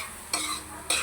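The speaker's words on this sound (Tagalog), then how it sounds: "I-mix lang natin siya." Carrots are stirred into egg in a cooking pan, with two quick stirring scrapes about half a second apart over a soft, quiet sizzle.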